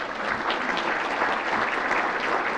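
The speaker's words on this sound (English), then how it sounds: "So please give your leadership group a round of applause." Audience at an American Farm Bureau event gives a round of applause, a full, even burst of clapping from a crowd that holds steady throughout.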